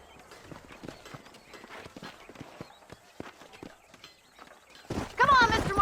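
Horses gallop in the Red Dead Redemption western video game, with rapid clip-clop hoofbeats running steadily under background game speech, ending in a louder burst of voice and noise.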